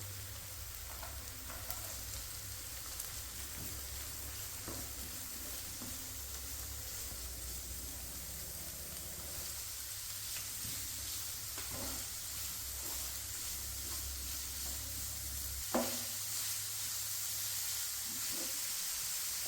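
Carrots and mixed vegetables fry with lightly browned onion in a pan for street-style vegetable chops, making a faint, steady sizzle and hiss with a few soft stirring clicks and no talking.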